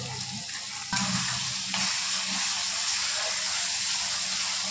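Marinated loitta fish with turmeric sautés in a pan, a constant close sizzle and hiss that swells after a stir near the start, without talk.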